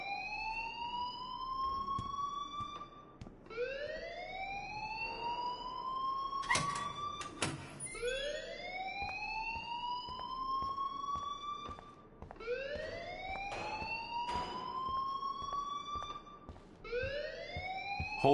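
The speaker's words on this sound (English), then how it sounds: "please turn off that alarm since that's your job" Rising, repeating electronic alarm wail in the video game Life is Strange, each sweep climbing then resetting roughly every three seconds, steady and moderately loud with a brief clatter in the middle.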